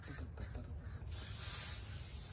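Insect repellent aerosol spray released at a campsite in an American forest, a few short hissing bursts followed by a longer, louder continuous spray close by.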